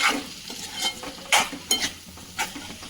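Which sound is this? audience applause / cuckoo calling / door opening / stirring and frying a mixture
stirring and frying a mixture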